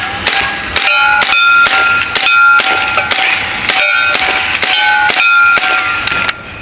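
Shots from an AEA Terminator 357 semi-auto PCP airgun in 9mm, a magazine fired in a rapid string of sharp cracks each followed by a metallic ringing clang of lead striking a steel target, about a dozen in quick succession.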